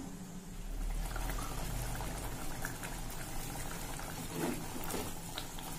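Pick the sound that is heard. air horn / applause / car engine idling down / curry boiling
curry boiling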